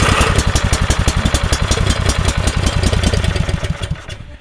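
Onan or Generac generator engine cranking from a cold start, a loud, rapid rhythmic chugging of the starter turning the motor over steadily for about four seconds before it slows and drops away.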